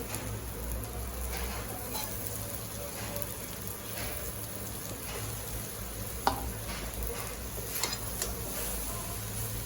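Vegetable curry of bamboo shoots frying and being stirred in a pan, a continuous dense sizzle with occasional spoon clinks against the pan, close and steady, no voices.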